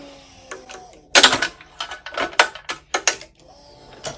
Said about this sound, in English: Remember, base clamp first before regular clamp, just to loosen up the tension.